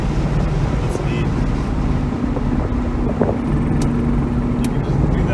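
Turbocharged Mazda RX-7 running at low RPM, a steady, loud engine drone with a low hum through the whole stretch, mixed with wind buffeting and cabin noise.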